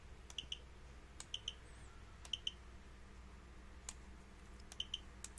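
Mercedes-Benz car key remote buttons pressed after a battery change, giving sharp, faint paired clicks repeated several times at uneven intervals in a quiet room.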